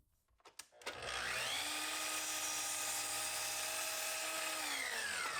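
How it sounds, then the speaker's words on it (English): Chop saw (miter saw) spinning up and cutting an angle in a piece for kitchen LED lighting, a loud close whine with a rising pitch that holds steady through the cut, following a few brief clicks. "just take it over to the chop saw and try and cut that angle as close as possible"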